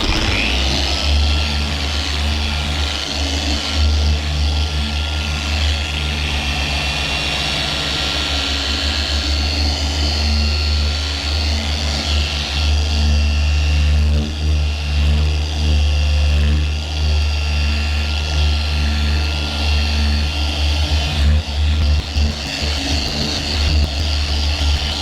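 A dual-action polisher runs at speed setting 3, giving a steady, close motor drone with a buzzing whir that holds without pause throughout, with no talking.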